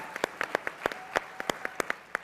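Scattered, sparse clapping from a small audience at a political speech, a dozen or so distinct claps at uneven intervals, fairly faint and thin rather than a full ovation.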